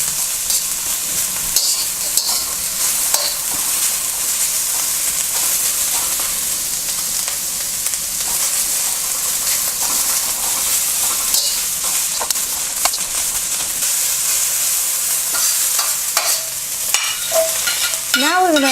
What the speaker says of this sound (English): So very important to keep stirring. And that's what stir fry is about.